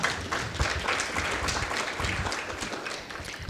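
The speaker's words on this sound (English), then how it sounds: "Let's give them a big round of applause, kindly." An audience at a construction research forum applauds a panel, producing dense, continuous clapping at steady volume for a few seconds, heard somewhat distant and muffled, as through a live stream feed.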